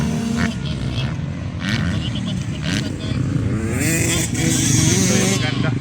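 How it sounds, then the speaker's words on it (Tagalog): A 250 cc racing motorcycle roars during a kids' open motocross heat, the engine revving and buzzing up and down close by, with crowd noise and a commentator talking over it. "Malaki yung motor na ginagamit ni Sierra, pero mamaya sa Ladies Open 250 ang gagamitin niya."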